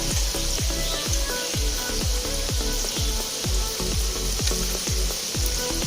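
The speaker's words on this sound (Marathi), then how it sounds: "हे जे आता बबल्स येतात ना ते थोडं कमी होतील आणि चकल्यावरचा जो फेस आहे तो कमी होईल" Continuous close-up sizzling and bubbling of rava chakli deep-frying in hot oil in a wide kadhai, with a regular, pulsing rhythm running through it.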